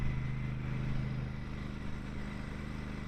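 Royal Enfield Super Meteor 650 motorcycle on a test ride: a steady, droning engine note with strong low harmonics that eases slightly about a second in as the throttle comes off, with constant road and wind rush and no voices.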